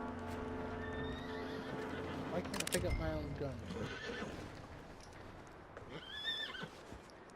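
Horses neighing and whinnying in the Red Dead Redemption video game, loud drawn-out calls with clip-clop hooves and game noise, a voice talking over part of it.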